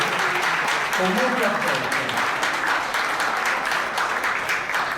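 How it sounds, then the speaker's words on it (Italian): An audience gives sustained applause at an event in Naples, a dense and even wash of clapping that runs the whole time. A voice speaks briefly over it. "facciamo un applauso"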